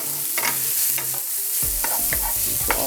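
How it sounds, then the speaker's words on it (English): Garlic and ginger fry in a pan for vegan spring rolls, a steady close sizzle broken by several scraping stirs of a utensil against the pan. "you really want that garlic to kind of cook down a little bit"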